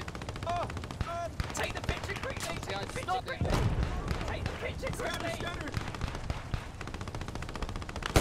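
Dense World War II gunfire in Post Scriptum, rapid machine-gun bursts and rifle shots crackling continuously from near and far, with a louder blast midway, under excited voices talking.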